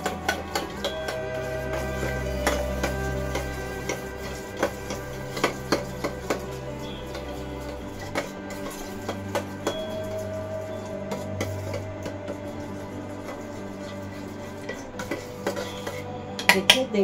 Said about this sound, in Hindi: साथ में हम इधर दही को भी अच्छे से फेंट लेते हैं